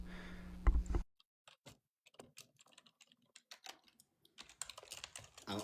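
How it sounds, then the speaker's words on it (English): Computer keyboard typing: a quick run of soft, close clicks and taps in uneven bursts, faint and without talk, after a brief noisy start. "I'm typing in something."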